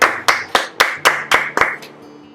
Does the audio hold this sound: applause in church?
yes